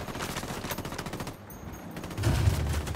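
Automatic gunfire in the Ghost Recon Wildlands video game rattles in dense, rapid bursts across the whole stretch, briefly thinning in the middle before a heavier, booming low-end volley returns near the end.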